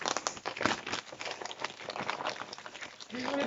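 Kraft gift-wrap paper is crumpled and torn off a large, heavy parcel: close, busy crinkling and ripping bursts that run continuously, with a louder tearing surge near the end.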